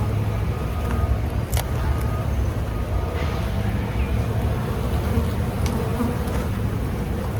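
Honeybees buzzing around an open hive at a governor's mansion during a spring inspection, a dense, continuous drone close by, with a faint hum of distant traffic beneath.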